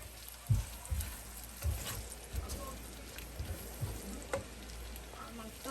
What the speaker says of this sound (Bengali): পেঁয়াজটা হালকা একটু ভাজা হয়ে গিয়েছে